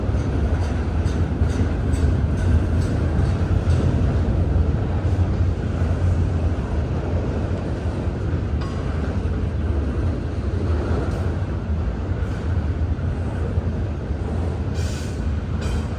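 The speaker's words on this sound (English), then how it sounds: "I don't see any power on the back of this train either" A freight train with only two locomotives on the front labors up a grade, a loud continuous rumble of rolling railcars with steady wheel noise and occasional faint squeals.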